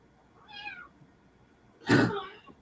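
A cat gives two meows, a softer rising one followed by a louder, longer call, close by with no talking.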